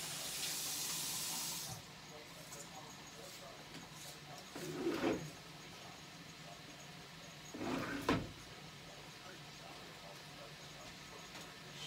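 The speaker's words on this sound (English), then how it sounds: "Can't remember, so I'm going to wash my hands." A kitchen tap runs as hands are washed: a short burst of gushing water, then quieter stretches with two brief splashy surges of rinsing, fairly faint.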